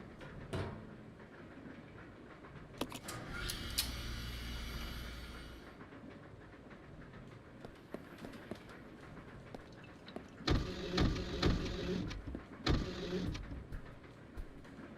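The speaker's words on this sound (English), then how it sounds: "Train still driving?" A moving train in the Resident Evil video game rumbles low and steady, broken by sharp clanks and two louder rattling bursts near the end, with no talking.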